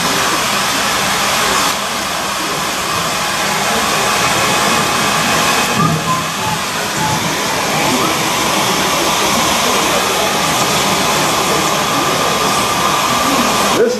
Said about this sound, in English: It's a wimpy hair dryer too.